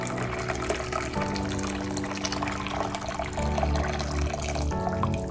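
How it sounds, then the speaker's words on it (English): Hot water is poured into a bowl, a continuous splashing gush of liquid that runs unbroken and fairly soft throughout. "I have my hot water. I'm just gonna go ahead and pour that in the bowl."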